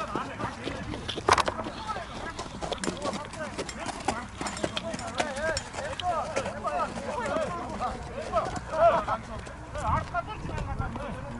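Horses of a kok-boru team gallop and trot during national team training for the nomad games, their hoofbeats a steady, busy patter at moderate distance beneath continual talk from people nearby.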